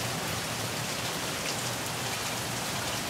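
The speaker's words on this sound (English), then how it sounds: "Them a safe trip up the line in this rainstorm." Steady heavy rain pours down in a southern rainstorm, a dense, even hiss of drops on surfaces that continues without a break.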